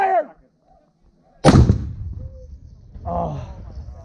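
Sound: rocket launcher firing a rocket at an armored vehicle

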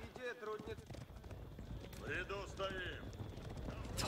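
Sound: horse archers' hooves in a video game, Age of Empires

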